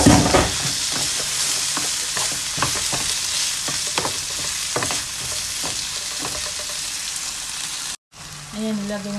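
Onions hit a hot pan and sizzle loudly in a dense, crackling hiss. Quick spatula clicks and scrapes run through it, then a brief break and a quieter stretch at the end.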